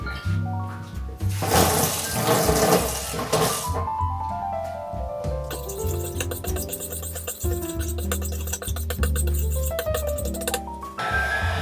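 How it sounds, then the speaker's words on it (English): Water poured into a pot for silk dyeing, a loud rushing pour that settles into rising, ringing tones as the pot fills, close and with no talking. "I'm going to add some water"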